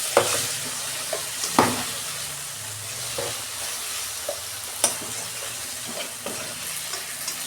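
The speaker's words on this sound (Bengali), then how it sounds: "আমি অল্প জল দিচ্ছি, মশলাটা কষাবো ভালো করে।" Ginger-cumin paste with green chilli and a splash of water frying in a pan, a continuous close sizzle broken by periodic scraping strokes of a spoon.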